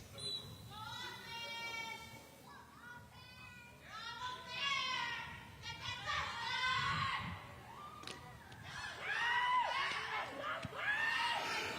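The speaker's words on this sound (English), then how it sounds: "Very lively crowd here at Veterans Memorial Stadium." A lively crowd at a football game in Veterans Memorial Stadium, with cheering, shouting and children's high-pitched calls rising and falling in waves, fairly distant beneath a commentator talking.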